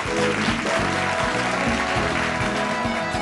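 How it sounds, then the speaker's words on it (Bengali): A game-show studio audience applauds steadily beneath a repeating musical sting with pulsing low tones, the clapping spread evenly throughout. "জোরে একটা হাততালি"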